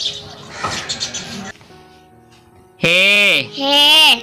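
Bird chirping to illustrate the Urdu letter che in an alphabet lesson for children: a busy cluster of high tweets at first, then two loud, sustained, slurred synthetic-sounding calls near the end, heard alone.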